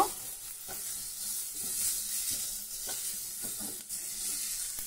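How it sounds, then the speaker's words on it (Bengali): Ground spices with cumin paste and ginger-garlic paste sautéing in a pan, a soft continuous sizzle and hiss with occasional light scraping taps of stirring, fairly quiet and close. "ভালো করে আমি মশলাগুলোকেও কষিয়ে নিচ্ছি, জিরে বাটা আদা রসুন বাটা সবটাই দিয়ে দিয়েছি।"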